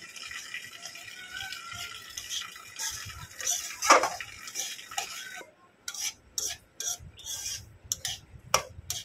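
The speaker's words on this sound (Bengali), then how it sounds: "লাল করে একটু বাদামি রং করে একটু ভেজে নেব সুজিটা।" Semolina is dry-roasted in a pan and stirred, making intermittent scraping, rasping and rattling strokes of a utensil against the metal, fairly close and with gaps between the bursts.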